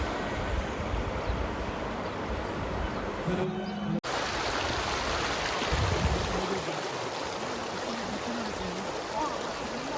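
The Indus (Sindhu) river flows steadily at a ghat in Ladakh, a continuous broadband rush of water with a brief cut partway through and faint background voices.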